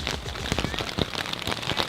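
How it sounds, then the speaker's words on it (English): Rain falling during a Florida trip, a dense steady patter of drops hitting surfaces close by, continuous and fairly loud for the whole brief moment with no talking. "It's raining, Lay."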